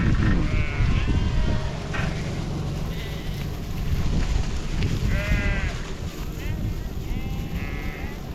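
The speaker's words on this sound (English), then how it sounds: "this is just a different mob of sheep that I'm feeding." Several sheep in a mob being fed, woolly and near shearing, bleat repeatedly, some near and some farther off, over wind noise and a low rumble, with a voice talking underneath.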